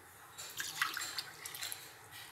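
Water poured into a pan for making sugar syrup for sweets like ladoo and barfi, a soft splashing trickle that runs about two seconds, close and fairly quiet, with no talk over it.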